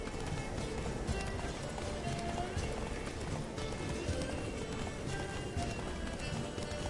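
Horse galloping in The Witcher 3, with steady, rapid hoofbeats running continuously under a dense, busy game soundscape, with occasional faint voice fragments.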